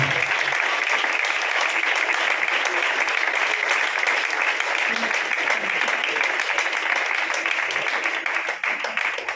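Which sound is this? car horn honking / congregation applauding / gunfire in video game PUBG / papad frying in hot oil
congregation applauding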